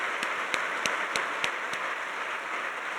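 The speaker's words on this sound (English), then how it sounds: "may we kindly give a rousing round of applause for our excellencies" Audience at the Transform Africa Summit leaders' conversation in Kigali giving a round of applause: a handful of sharp, evenly spaced claps stand out over a steady hall wash, then taper away.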